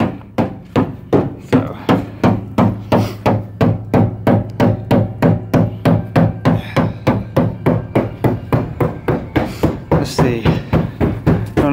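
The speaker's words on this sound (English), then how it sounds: "Got a man over here going to hammer on the other side." A hammer beats steadily on a car body panel during a Nissan 350Z LS swap build. The blows are loud, close and evenly spaced, about three per second, and continue without pause, with no talking.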